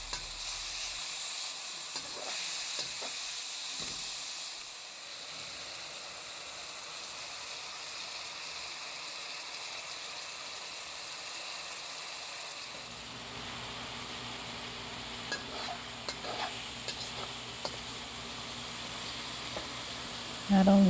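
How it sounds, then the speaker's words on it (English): Vegan beef and broccoli frying in a wok over high heat as the sauces caramelize, a continuous hiss and sizzle with occasional stirring clatter, louder and denser in the second half. "stirred that a bit and let it, the sauces caramelize for a bit"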